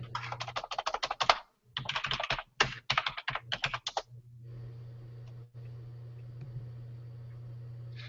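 Fingers type quickly on a computer keyboard, with a rapid, irregular clatter of keystrokes for about four seconds over a steady low hum. Quiet room noise follows, and no one speaks.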